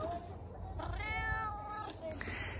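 A cat gives one drawn-out, wavering meow close by, over a low steady background rumble.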